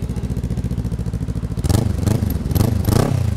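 Kawasaki Ninja 400 idling through a GP1 muffler with the silencer fitted, a subdued, even putter that swells into a few louder throttle blips near the end.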